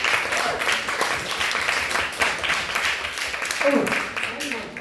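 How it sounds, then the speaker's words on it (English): A crowd applauding steadily, clapping filling the room for several seconds with a few voices faintly underneath. "Big round of applause."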